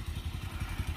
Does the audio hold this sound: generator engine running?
yes